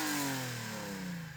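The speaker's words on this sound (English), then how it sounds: "So we're going to rev up these cars' engines and see what they sound like." A BMW M3 E30's engine revs once, a loud, close, steady roar that slowly falls in pitch over a moment and a half, with no voices.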